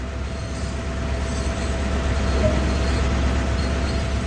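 Heavy freight locomotive on the Peninsula Corridor in Train Sim World pulling away from a stop, a steady low diesel rumble and rolling rail noise that swells slightly as power builds, with a faint tonal whine running throughout.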